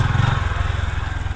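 Honda Grom motorcycle engine revving hard during wheelies, a loud, close, pulsing engine drone held throughout the short burst.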